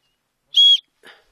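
A safety whistle on a Raidlight Responsiv 8L trail running pack gives one short, shrill piercing blast, followed by a faint, breathy second puff, loud and close in near silence.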